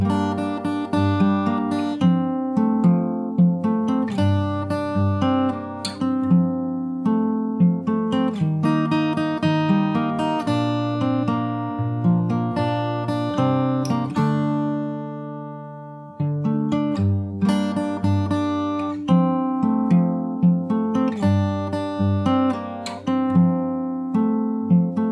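Fingerstyle acoustic guitar plays the verse of a song, with plucked chords and melody notes in a steady rhythm and a short pause midway, close and clear with no voice.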